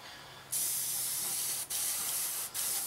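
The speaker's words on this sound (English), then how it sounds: "Spray this bit on to get a first layer of paint on" Aerosol spray paint hisses in three steady bursts with brief gaps between them, close and fairly loud, after a quiet start, as a first coat goes onto a 1/48 Junkers Ju 52/3m plastic model.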